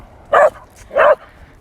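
Dog barking twice while out on a walk, two short, loud, fairly close yips spaced about half a second apart, with no talk over them.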